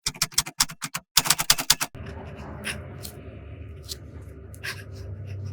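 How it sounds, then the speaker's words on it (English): Fountain pen nib scratching across 20-pound copy paper, close and quiet, in short rapid strokes for about two seconds before a softer, continuous low rustle of writing continues with occasional sharper scratches. "The last writing sample is done on 20-pound copy paper."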